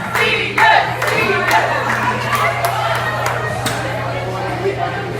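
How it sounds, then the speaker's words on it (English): A school chapel audience of high school students claps and cheers for a student returning to his seat after a correct guess, a steady crowd roar with scattered whoops and clapping throughout, with voices mixed in. "Give him a round of applause as he goes back."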